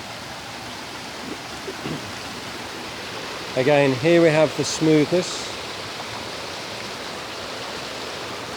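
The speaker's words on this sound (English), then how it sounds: "Let's have a listen to the sound of the water here." Water flows in a park in a steady, hissing rush throughout, with someone briefly speaking over it midway.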